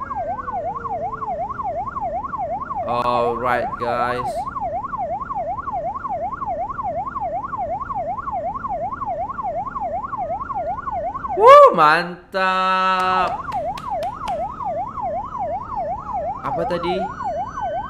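An ambulance siren working through Malaysian traffic keeps up a fast, steady yelping wail, with a loud burst of a second siren tone midway and someone talking over it in brief snatches.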